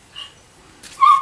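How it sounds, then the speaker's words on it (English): A household dog lets out a short, sharp bark close by, preceded by a faint quieter yip in an otherwise quiet room. "my doggy's telling me somebody's here"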